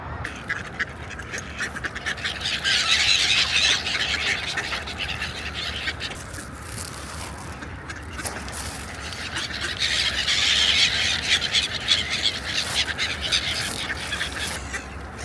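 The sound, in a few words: ducks and geese on a lake being fed bread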